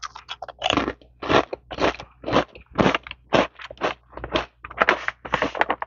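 Close, crisp crunching of truffle potato chips being chewed, with rapid repeated bites in a steady rhythm, loud and right at the microphone.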